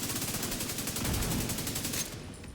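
Minigun fire in a video game, a continuous, fast rattling stream of shots that stays loud and even before cutting off abruptly, with no talk over it.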